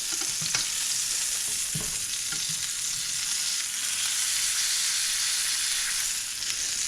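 Muscovy duck breast sears in a pan of its own rendered fat, a loud, dense, continuous sizzle, with a few spoon scrapes and splashes near the start as the hot fat is basted over it.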